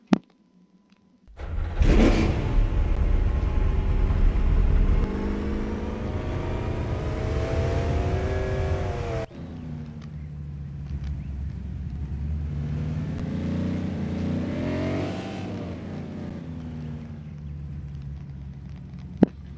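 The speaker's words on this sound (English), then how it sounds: "Oh, listen to the engine purr." A Dodge Charger police car engine in Arma 3 starts, then revs loudly and rises and falls in pitch before settling to a lower rumbling idle and a second swelling rev.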